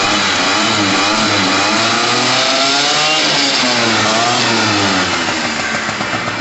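A Pulse Force 50cc two-stroke motorcycle engine revving hard and loud, a raspy buzzing howl that climbs and falls in pitch across repeated throttle blips, close and continuous.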